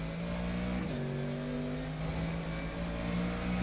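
Race car engine in rFactor 2 on the Nordschleife, a steady loud drone holding mid pitch, one shift-like dip near the first second, then sustained high revs throughout with no talk.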